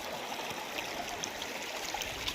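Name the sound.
stream water flowing at Rani Jhariya waterfall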